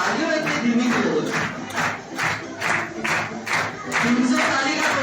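Audience at a company leaders' gathering claps in rhythmic unison, loud regular beats about twice a second with a crowd murmur underneath.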